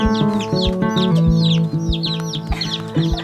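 Baby chicks peep in high, rapid chirps in a box in a barn, close and clear, over steady clucking and low fowl calls that run through the whole stretch.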